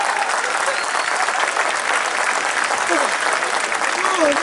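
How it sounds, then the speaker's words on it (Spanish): An audience at a national folk festival in Chillán applauds a Chilean folk group with loud, steady clapping throughout, with crowd noise mixed in. "Fuerte el aplauso para los Guasos Quincheros."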